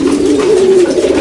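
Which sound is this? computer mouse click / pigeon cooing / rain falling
pigeon cooing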